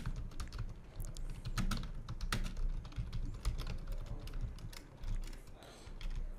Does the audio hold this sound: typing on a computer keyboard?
yes